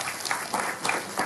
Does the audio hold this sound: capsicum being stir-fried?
no